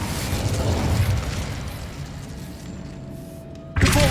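The Incendio fire spell in the Hogwarts Legacy video game lets out a dense, roaring rush that holds steady, thins out, then ends with a sudden sharp burst. No voices are heard.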